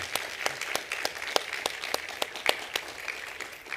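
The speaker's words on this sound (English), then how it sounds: "Nice round of applause for Tom" A small audience gives a round of applause after a guest talk, with distinct scattered claps that stay fairly quiet and sparse throughout.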